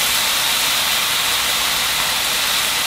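Shimeji mushrooms stir-fried fast over high heat with soy sauce and a spoon of corn syrup, giving a steady, loud broadband hiss and sizzle with no talk.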